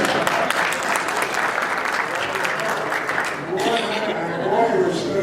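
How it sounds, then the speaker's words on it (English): Attendees at a community board full meeting applaud together, a steady dense clapping that runs throughout and thins a little toward the end, with voices murmuring underneath. "Come on, let's get some applause."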